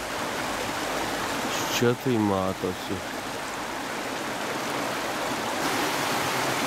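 A small stream flows with a steady, full rushing wash of water running alone for most of the stretch, and a person speaks briefly over it near the middle.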